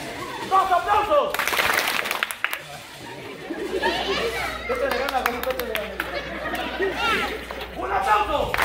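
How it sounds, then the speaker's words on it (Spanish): Guests at a baptism party applaud during a clown show, with bursts of clapping coming and going amid constant crowd chatter and children's voices close by. "¡Un aplauso! ¡Dos aplausos!"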